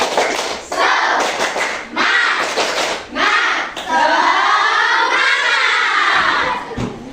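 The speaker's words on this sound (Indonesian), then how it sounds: "Ayo kita tepuk semangat dulu." A class of children does the rhythmic 'tepuk semangat' clapping chant together, shouting in unison over a steady run of claps. The group sound is loud and close and carries on for several seconds.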